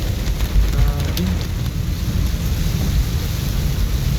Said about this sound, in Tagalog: Talagang bumuhusan lang malakas na ulan.